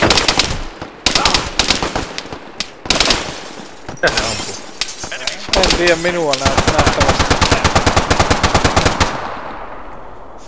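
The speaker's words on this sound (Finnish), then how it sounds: "Minä ammuin vihollisen, niin jätkät rupes hulluna räskimään." Machine gun fire in the video game Arma 3, loud rapid bursts and sustained automatic volleys, close and sharp, with a brief voice speaking between bursts.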